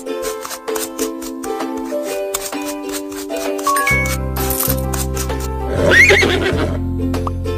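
A horse neighs in a princess horse club pet care video game, a loud whinny rising out of bright musical game jingles and chimes, with clip-clop and coin-like effects around it.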